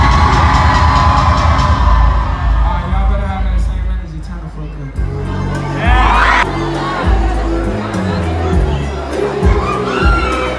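A concert crowd in Toronto at a show cheers, whoops and shouts continuously, with loud dense roaring and voices yelling throughout.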